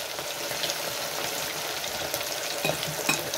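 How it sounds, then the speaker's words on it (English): Fish pieces for Jamaican brown stew frying in hot oil in a fryer, a steady close sizzle and crackle with a few sharper pops toward the end. "that's my fish frying down right there"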